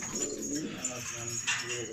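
Hatay pigeons of the elvan type coo softly nearby, a low murmuring call over faint background noise, with a brief brighter sound midway.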